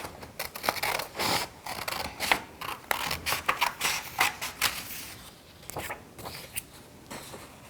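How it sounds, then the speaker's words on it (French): Scissors snip through paper while cutting out shapes for a children's craft, a quick irregular series of close, crisp cuts with short pauses between bursts. "je prends mes ciseaux et je découpe chacune des formes l'une après l'autre"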